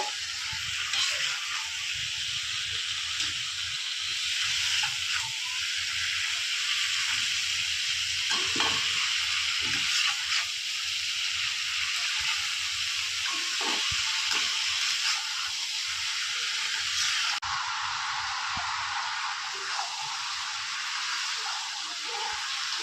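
Fish head and cabbage fry in a pan, a long steady sizzle and hiss with occasional scrapes and clinks of stirring, close up and fairly loud, no talking.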